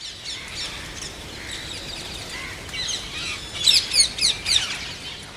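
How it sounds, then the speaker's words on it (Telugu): Shrill chirps and squawks of rose-ringed parakeets, with pigeons, ring out in bursts over a soft outdoor background on a rooftop in Visakhapatnam, growing busier and louder toward the end. "రామచిలుకలు పావురాలు వచ్చి సందడి చేస్తున్నాయి."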